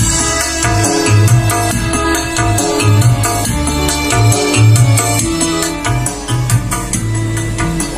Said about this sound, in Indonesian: suara asli dari amplifier ini dari kit pump ya